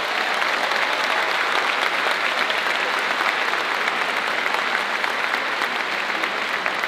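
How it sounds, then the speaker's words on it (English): Audience applause at a school district opening-day staff event honoring long-serving employees: dense, steady clapping from a large room filling the whole stretch with no pause. "Round of applause"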